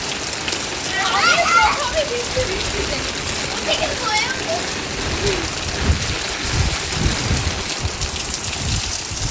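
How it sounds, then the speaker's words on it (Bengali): Heavy rain pouring down during a storm, a loud, dense, steady wash of drops hitting surfaces nearby, with people talking and chattering over it. "এত বৃষ্টি হয়ে গেছে, আল্লাহ রে আল্লাহ, ঝড় হয়ে গেছে"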